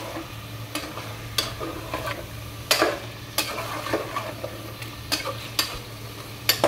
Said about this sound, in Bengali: চিকেনগুলোর সাথে মশলাটা ভালো করে মিক্স করে দিবেন যেন চিকেনের ভিতরে একদম ভালো করে ঢুকে যায়